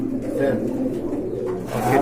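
Domestic pigeons cooing steadily in a breeder's loft, low throaty calls overlapping close by under a voice speaking.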